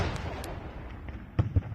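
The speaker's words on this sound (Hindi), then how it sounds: "तो ये तोपों की आवाजें।" Cannon fire rumbles faintly in the distance in a historical Maratha royal court setting, a low muffled roll followed by two brief dull booms in quick succession.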